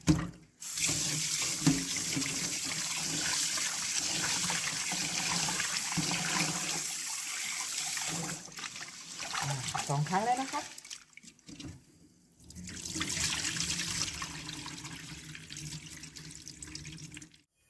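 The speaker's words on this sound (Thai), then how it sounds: "หลังจากที่เราล้างข้าวสารไปสองครั้งแล้ว" Water runs steadily from a sink tap while raw rice grains are washed, with a brief pause partway through before the flow resumes, close and continuous, with a voice speaking at times.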